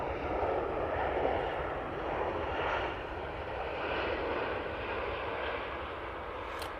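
Plane landing at Manchester Airport after a go-around, its engines giving a broad, steady roar that swells slightly and settles, heard alone without talk.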